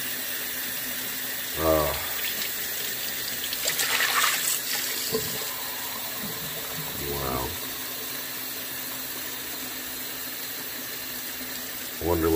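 Cold water runs from a shower in a steady, broad hiss that fills the whole stretch, while a few brief spoken exclamations and thumps sound over it.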